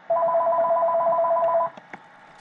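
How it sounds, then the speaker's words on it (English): A home telephone rings with a steady two-tone electronic trill lasting about a second and a half, clear and fairly close, followed by faint ticks and quiet room noise. "Oh, dang it, that's the home phone going off."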